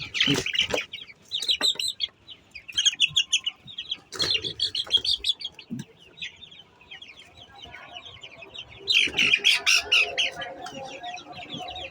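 Sick chickens, suffering from dysentery, squawk and cluck in loud, repeated bursts, with several birds calling over one another close by.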